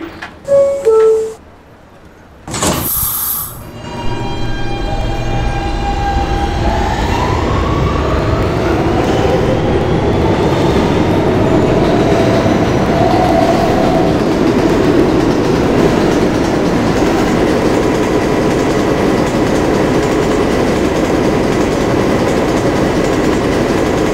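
An R160B D subway train rolls along the rails after a brief burst of noise at the start, settling into a loud, steady rumble and rising whine of the moving car, close and continuous, with no talking.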